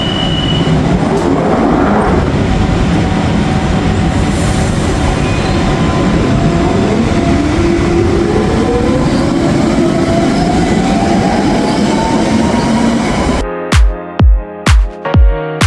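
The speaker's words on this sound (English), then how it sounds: "the doors will shut down and the train will gather a lot of" A London Underground tube train pulls away and gathers speed, its motor whine rising steadily in pitch over rumbling wheels, loud and close, before a few sharp door beeps sound near the end.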